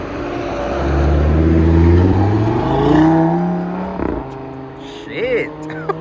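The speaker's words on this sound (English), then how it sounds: "we're gonna do a little flyby and exhaust sound right now with the stock exhaust" Audi TT RS on its stock exhaust makes a loud flyby, the engine note rising as it approaches and fading as it passes, with no talk over it.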